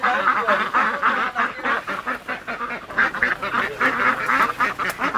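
Ducks quacking at a duck farm, a dense flock calling in overlapping bursts, loud and close, nearly continuous with brief dips between calls.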